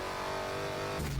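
A modified Dodge Hellcat's supercharged engine roars steadily in Forza Motorsport 7, a loud sustained rev close by during a drag run with a sharp change near the end.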